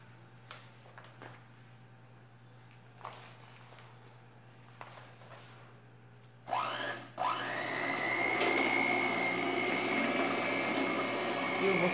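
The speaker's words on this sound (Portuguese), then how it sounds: "Vou pegar a batedeira." An electric hand mixer whirs loudly and steadily while blending homemade baby fabric softener made with hot water. It starts abruptly after a quiet stretch of faint clicks and room hum.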